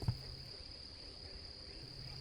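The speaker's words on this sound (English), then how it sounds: "crickets start to chirp and the night draws near" Crickets chirp at night in a steady, faint, continuous high trill, with a brief soft knock at the start.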